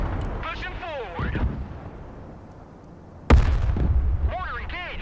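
Mortar fire and explosions in the military strategy game Broken Arrow, a sharp loud blast partway through over a rumbling battlefield backdrop, with radio-style voices talking before and after.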